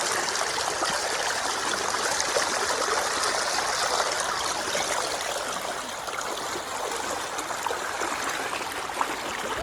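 Water rushing steadily through a village channel near cattle, a dense, unbroken hiss and gurgle at close range that stays level throughout, with no voices.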